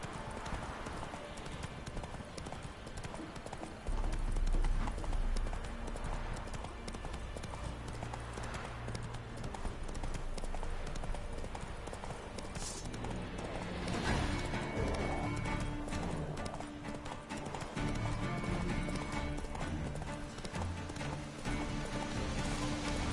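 Horse hooves gallop in The Witcher 3: Wild Hunt game, a fast, continuous clip-clop rhythm that runs throughout at moderate level over ambient game sound, with a brief whinny and a short crash partway through.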